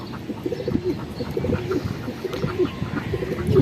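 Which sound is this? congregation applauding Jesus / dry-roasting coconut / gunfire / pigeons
pigeons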